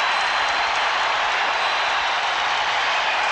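Dense, steady roar of a basketball arena crowd cheering and applauding during a 1993 NBA playoff game, Chicago Bulls at Cleveland Cavaliers, loud and continuous throughout with no break.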